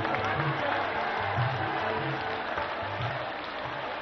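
A crowd at a political rally claps and cheers, with dense clapping under a voice talking over the loudspeaker, fading slightly toward the end.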